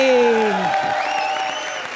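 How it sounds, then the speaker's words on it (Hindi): Steady applause from a crowd fills the clip, with a sustained tonal sound and voices underneath. "तालियां मेरे लिए, तालियां जोरदार तालियां।"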